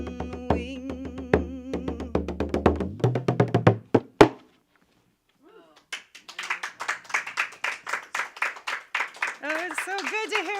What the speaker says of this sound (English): Oh, it's so good to hear applause.